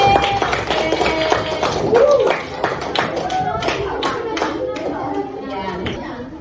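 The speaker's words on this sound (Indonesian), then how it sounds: "Nanti tepuk tangan dulu untuk Putri." Schoolchildren in a classroom clap for a classmate after her presentation, a lively burst of hand claps with children's chatter and voices mixed in, tapering slightly toward the end.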